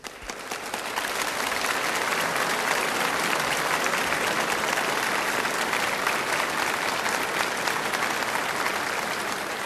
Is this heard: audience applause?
yes